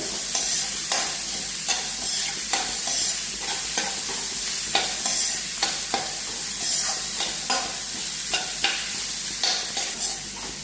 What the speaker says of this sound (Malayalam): ഏകദേശം ഒരു അഞ്ച് ആറ് മിനിറ്റോളം വഴറ്റിയാൽ മതി